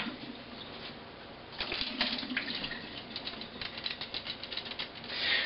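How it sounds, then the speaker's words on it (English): Super hot water rinsing the inside of a hydrometer during home brewing of a java stout, a close, splashy running-water sound that grows busier and louder after the first second or so. "I always like to kind of rinse out the inside of this thing."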